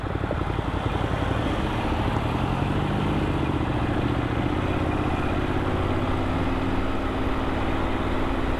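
Unmarked Northamptonshire police BMW motorcycle being ridden out on countryside roads, its engine droning steadily and loudly with a continuous low hum and wind rush, no voices.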